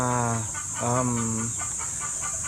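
A chicken clucks in a few short, close bursts, with a faint continuous background hiss.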